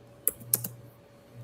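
Typing on a computer keyboard in a quiet room, a few sharp key clicks in quick succession followed by a steady low hum.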